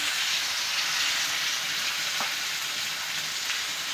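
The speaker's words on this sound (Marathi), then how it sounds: "आता या तेलामध्ये मसाला घालायचा वाटत केलेलं अजून थोडंसं परतायचं" Ground spice paste frying in hot oil for a chicken curry, a steady, close sizzle with a faint stir or scrape partway through and no voices.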